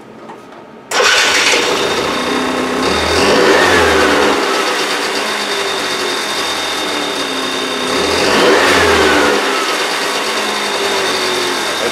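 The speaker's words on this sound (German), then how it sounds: "Normal, wenn ich Vollgas gebe, hat er sofort Gas angenommen." An engine catches and starts after a second of quiet, then holds a loud steady run with two strong full-throttle revs, after its carburetor and air filter were cleaned.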